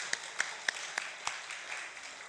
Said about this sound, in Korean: 역시 우리 박수